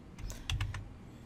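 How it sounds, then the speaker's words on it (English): Arrow keys on a computer keyboard are tapped in a quick run of about five light, close clicks, while a model is nudged in Tinkercad; quiet background otherwise. "I can just use the arrows."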